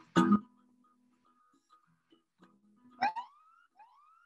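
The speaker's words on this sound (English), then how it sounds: "I don't know if I want to hear the cops every time that timer goes off." A kitchen timer alarm that sounds like a police siren gives two short bursts, the second rising into siren-like sweeping wails, close and clear against a quiet background.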